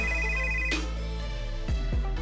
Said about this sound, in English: the phone starts to flash bright yellow and rings